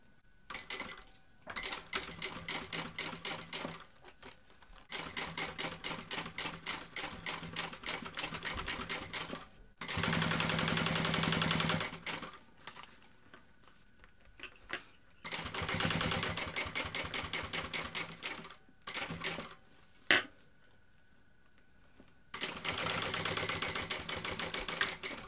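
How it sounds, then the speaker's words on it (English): A sewing machine top stitches a BeHip 2.0 bag in long steady runs of rapid mechanical whirring, stopping and starting several times with brief quiet gaps between bursts. "So top stitching this."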